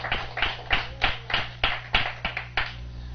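A church congregation claps in a steady, even rhythm, with about nine crisp claps in quick succession and no voices over them.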